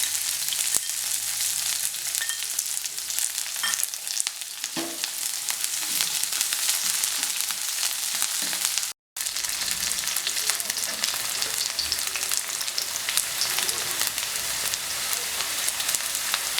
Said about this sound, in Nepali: अब यसमा म प्याज राख्छु